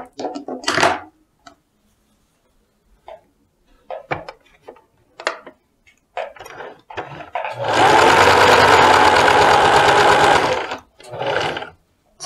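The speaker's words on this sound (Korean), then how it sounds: "여기서 다시 또 박아줍니다" Sewing machine stitching a seam on a dress, heard up close: short scattered bursts and clicks first, then one loud continuous run of stitching lasting a few seconds before stopping, with no talk.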